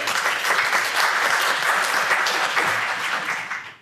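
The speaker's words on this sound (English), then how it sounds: "I clap for that." Steady applause from a church congregation during Sunday worship, a continuous patter of many hands clapping that holds for a few seconds and then fades out.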